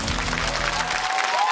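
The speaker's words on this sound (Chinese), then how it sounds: "掌声欢迎" Applause welcoming a children's singing group at a kids' singing contest, a short burst of crowd clapping under a music bed that fades near the end.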